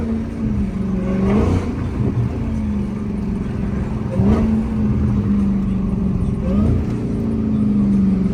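A straight-piped Dodge Hellcat Redeye with large exhaust tips drones loudly in a tunnel, its deep exhaust note swelling in several revving surges over a steady reverberant rumble, with no talk over it.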